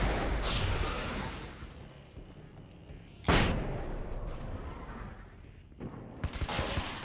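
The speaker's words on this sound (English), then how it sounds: "Wait, there was flashbangs." Flashbang detonations in Alan Wake's American Nightmare, a sharp loud burst cutting through a dense rumbling game soundscape, followed later by another crackling blast, with no talk.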